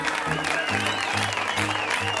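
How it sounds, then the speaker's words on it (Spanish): Studio audience applause on a variety television show before a magic routine, a broad clapping wash heard under a prominent voice and background music with sustained tones. "¡Fuerte el aplauso!"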